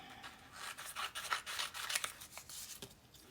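Scissors snip through fabric that has been fused onto an appliqué backing, a quiet run of close, crisp cutting and rubbing sounds with no talk.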